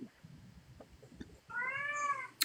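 A cat lets out a single drawn-out meow, fairly close and clear, rising out of a quiet room background and ending with a brief sharp sound.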